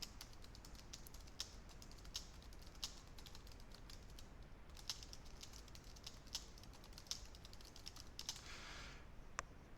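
Typing on a computer keyboard, a steady run of light, quick key clicks in irregular rhythm, close and fairly quiet, with no voices.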